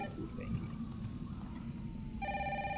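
A synthetic telephone ring with steady tonal pulses starts near the end over a low, rumbling horror game ambience.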